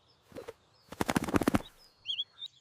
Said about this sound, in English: The birds found the puddle. They are taking a bath.